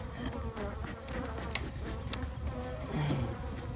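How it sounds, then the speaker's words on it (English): Honey bees from an aggressive hive buzz steadily and densely throughout a spring hive inspection, a continuous swarm-like drone close to the listener with no speech. "the bees will really get going here in a second."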